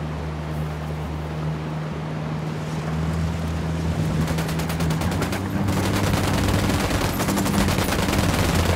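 Gunfire in the tactical shooter Ghost Recon Wildlands: rapid automatic bursts that build and grow denser over a steady, loud engine-like drone. Little or no talking is heard.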